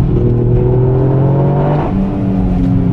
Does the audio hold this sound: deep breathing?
no